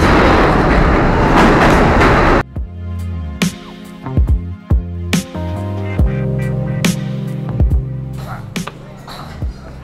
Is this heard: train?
yes